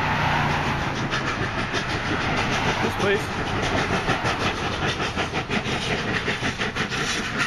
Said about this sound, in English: I'm chasing steam trains up the Blue Mountains today